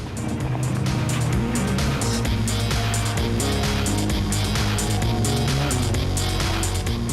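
A Ford Ranger rally racing truck competes in the Atlas Copco 400 in 2011, its engine roaring loud and continuous with shifting pitch and rapid rattling pulses throughout.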